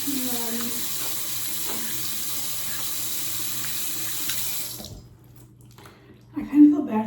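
Tap water runs steadily into a sink during handwashing, a close continuous hiss that stops abruptly, followed by quiet with a brief clatter at the end.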